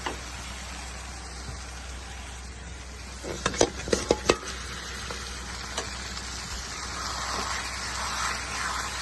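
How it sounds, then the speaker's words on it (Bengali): Katla fish pieces stirred into cooked spice paste in a pan, with a soft steady sizzle and a short burst of utensil scrapes and clinks near the middle, no talking. "মাছ দিয়ে এভাবে দুই মিনিট মতো কষাবো"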